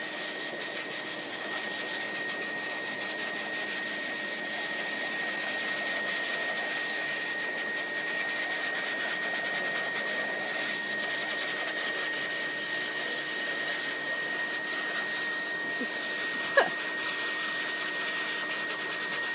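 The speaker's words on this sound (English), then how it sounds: "Using the blower on them, getting them used to that sound and that feeling against their skin." A steady, loud air blower runs continuously while being used on camels being prepared for rides, a broad rushing whoosh with a constant motor hum, with a brief small knock near the end.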